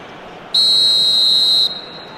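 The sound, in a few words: referee's whistle for a foul in a football match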